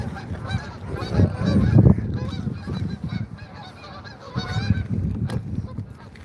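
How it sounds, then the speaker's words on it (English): Geese honking repeatedly nearby, a flock calling in overlapping bursts with louder clusters early and late, against some background noise. "Silly goose."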